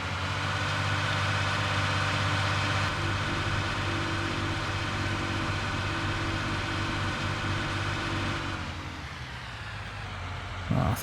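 A powerful 7310 tractor engine in Farming Simulator 19 drones steadily at a low, constant pitch, then the tone shifts and eases slightly near the end.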